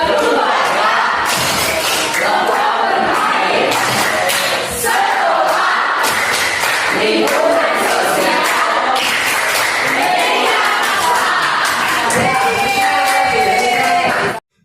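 Students in a classroom performing a rhythmic group clapping chant, loud shouted voices mixed with patterned claps and thumps in quick bursts, continuing energetically before cutting off abruptly at the end.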